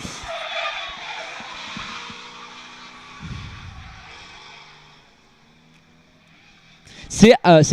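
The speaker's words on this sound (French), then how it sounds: "À bord de la Mustang du championnat de France de drift" A Ford Mustang drift car at a French drift championship event skids with long tire squeal, moderately loud and then fading, while someone speaks over it and then a sharp burst of noise closes the clip.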